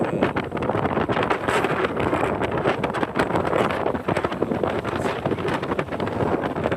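Strong wind on a cruise ship deck buffets the microphone in continuous rough gusts, loud and close, with no voices.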